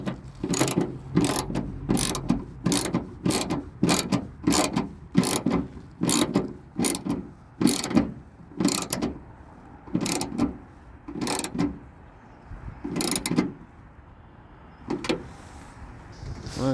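Taillight fasteners on a Nissan 200sx B14 being tightened with a ratchet, heard as repeated close, crisp clicking bursts in a steady rhythm with short pauses between strokes and no talk.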